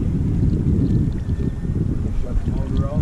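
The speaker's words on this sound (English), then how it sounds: "Shut the motor off." A fishing boat's motor runs on open water near a bridge, a steady close low rumble mixed with wind buffeting the microphone, with no break in the drone.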